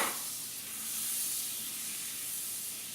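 Butter, about two tablespoons, sizzles steadily in a hot pan with the heat turned down, a soft continuous hiss and crackle heard close up with no talking.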